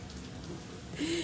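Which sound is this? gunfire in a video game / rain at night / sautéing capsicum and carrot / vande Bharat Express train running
rain at night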